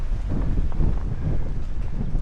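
Steady, buffeting wind roars across an exposed, cloud-covered summit on the Woolpack Rocks hiking trail, a loud continuous rumble of microphone wind noise with no voices.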